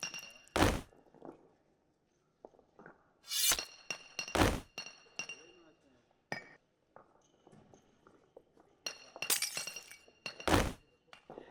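Glass breaking as a sound effect in a LEGO murder mystery set on the Titanic: several sharp, separate crashes and shatters with tinkling clinks, each burst followed by near silence.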